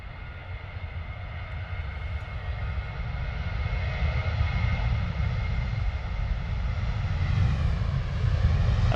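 A Ryanair jet airliner takes off at Stansted Airport, a steady roaring engine rush that builds gradually louder over several seconds, heard alone from the airport boundary.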